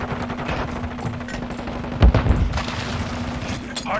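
Gunfire in Call of Duty Modern Warfare 2 during a Hardpoint match, with rapid automatic fire running throughout and a heavier boom midway.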